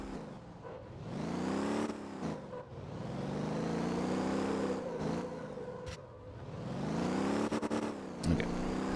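A car engine in the Motor Town driving game revs repeatedly in rising and falling sweeps, loud and close throughout, with a brief sharp rattle near the end and no talking.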